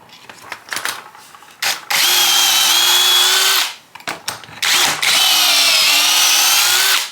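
A power drill whines loudly in two long bursts, boring pocket holes into wood, with short pauses and some handling clatter between them.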